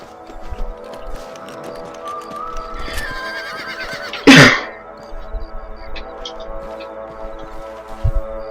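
In the video game Red Dead Redemption, a horse gives one loud, shrill neigh midway, with soft hoof clops and snorts scattered around it and no talking.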